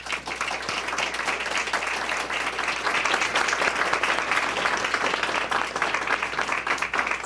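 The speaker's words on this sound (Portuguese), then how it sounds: "Vamos saudá-las agora com uma salva de palmas." An audience at a conference on state modernization and administrative reform gives sustained applause to welcome the panel speakers, a dense, even crowd clapping heard close by for the whole stretch.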